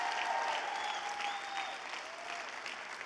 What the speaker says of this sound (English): Let's give them a big round of applause for representing us today.